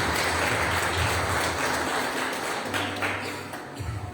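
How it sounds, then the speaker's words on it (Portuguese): A congregation applauds during a Sunday church service, a dense, continuous wash of many hands clapping close by, holding steady over a low sustained musical drone. "Você pode mais uma vez aplaudir o Senhor."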